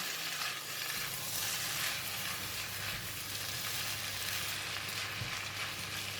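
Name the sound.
stir-frying tofu mee goreng noodles with spring onions and parsley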